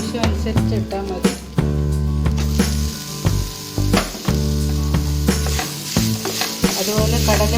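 Grated mango is fried with coconut, chana dal and urad dal in a hot pan: a loud, close, crackling sizzle with repeated sharp scrapes and clinks from stirring throughout.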